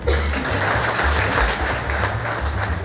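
An audience claps at a lecture during a workshop for an INSPIRE award event, a dense, steady wash of applause lasting the whole stretch without pause.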